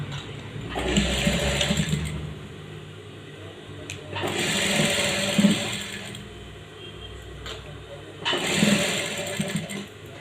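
A sewing machine stitches a decorative neck design on a blouse in three separate whirring bursts, each lasting a second or two, with quiet pauses between them.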